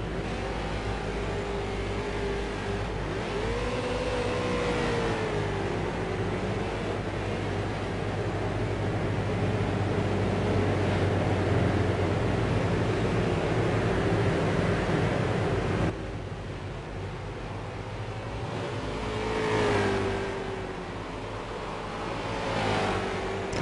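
Stock race cars of the ITZR Pro Series at South Boston track, a steady, fairly loud engine drone with some surging revs that drops and shifts character partway through, with no voices.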